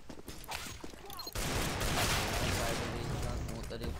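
Rapid gunfire from the CS:GO video game on a Jailbreak server erupts partway through and keeps up as a dense, loud barrage, with a voice talking over it before and during the shooting.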